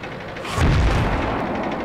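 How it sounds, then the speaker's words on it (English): Artillery shell in World of Tanks bursting nearby, a single heavy boom with a deep low thump that rolls off into a rumbling tail. "now the artillery spotted me and they're taking some crazy shots at me"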